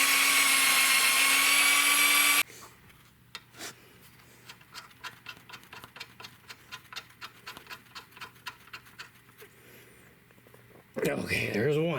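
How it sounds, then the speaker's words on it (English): A power drill bores holes in metal giant-robot parts, giving a loud, steady whining burst at the start and another at the end, with quiet ticking and clicking in between. "And then drill some holes."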